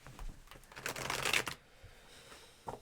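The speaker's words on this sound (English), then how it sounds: "Give me room to shuffle." Tarot cards are shuffled close up in a dense riffling burst lasting about a second, followed by quieter card handling and a final soft tap.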